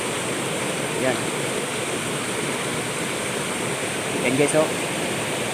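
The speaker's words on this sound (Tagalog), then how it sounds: "So ito pa yung maliit na sapa na mabagsak na mini falls." A small stream spills over a mini waterfall, producing a steady, close broadband rush of water that stays even throughout, with a few brief voices speaking over it.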